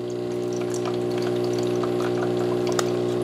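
A De'Longhi True Brew coffee and espresso machine pumps and dispenses hot water while priming: a steady, loud pump hum with a continuous splashing stream throughout.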